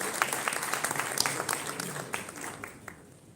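Guests at an executive business dinner clap in a round of applause for an introduced chairman, a dense patter of hands that fades toward the end, heard alone.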